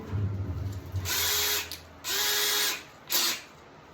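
A cordless power drill driving screws to fasten legs onto a wood stove kit, three loud whirring bursts of about a second each, close up, separated by short pauses; no talk.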